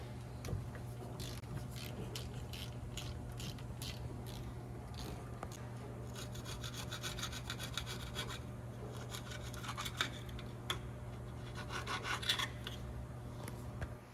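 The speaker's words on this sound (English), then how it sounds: "I'm gonna have to grab a ratchet to get to those top ones" Ratchet loosening the rear differential cover bolts on a 2013 Nissan Frontier, heard as rapid scratchy clicking and rasping bursts in irregular runs over a low steady hum, fairly close.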